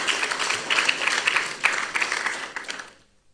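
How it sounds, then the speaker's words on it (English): A summit audience claps steadily in a large hall for about three seconds, a dense patter of many hands that fades out at the end with no voices over it. "Help me thank His Excellency with another round of applause, please."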